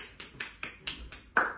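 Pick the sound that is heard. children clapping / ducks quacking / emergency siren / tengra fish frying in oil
children clapping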